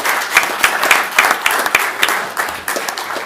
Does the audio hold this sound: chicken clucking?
no